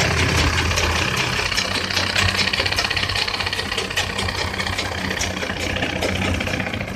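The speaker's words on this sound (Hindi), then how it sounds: "इसी तरीके से इसकी साइड में एक लप की सिलाई लगा देंगे" A sewing machine stitches the side of a trouser belt loop, a continuous fast mechanical whir and rattle, close and steady throughout.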